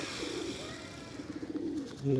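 Pigeons of a Delhi breed collection coo softly inside a loft, low repeated calls continuing throughout with a louder coo rising at the end.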